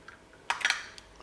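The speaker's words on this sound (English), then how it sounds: "So just crack the egg inside." Eggs cracked into a bowl with grated sweet potato for vegetarian pancakes, a few quick sharp taps and clicks bunched in the middle, close and fairly quiet.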